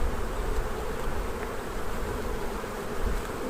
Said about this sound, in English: You can just tell by the sheer weight there's a lot of bees on there